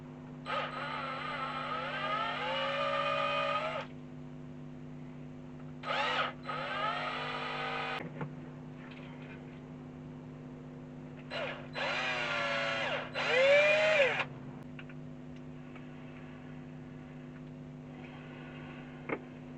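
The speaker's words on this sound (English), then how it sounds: "So there, I just screwed them in." Short bursts of a small powered screwdriver whirring as servo screws are driven in with M3 locking nuts during a nitro RC car rebuild, several separate runs with pauses, close and fairly loud over a steady background hum.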